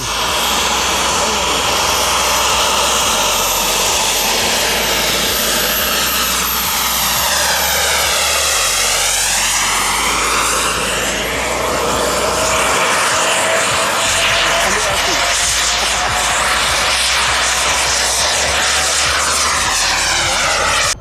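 Model jet aircraft performing thrust-vectoring maneuvers at an RC jet flying event in Central Florida, its loud turbine roar sweeping and Doppler-shifting as it passes overhead, with people talking in the background.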